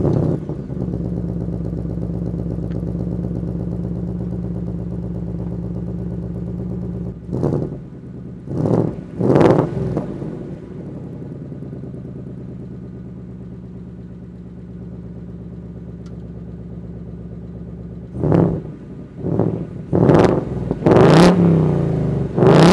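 A 2023 Ford Mustang Mach 1 V8 idles with a deep, steady burble, then barks through several sharp throttle blips in two clusters, loud and close, with no talking.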